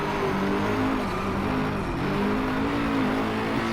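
Race car engine in the Driveclub game, Ferrari LaFerrari or McLaren P1, revving high near 8,500 rpm with a strong whining tone that dips and climbs as it changes gear, loud and continuous.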